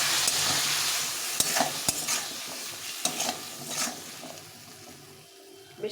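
Black chickpeas and potatoes sauté in a pan, with a steady sizzle and scattered sharp scrapes and clinks of a spoon stirring, close and fairly loud.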